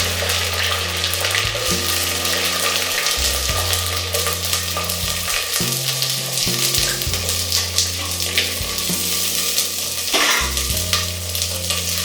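Onion and garlic sauté in a clay pot for a fish curry, a steady close sizzle with a continuous low hum beneath it.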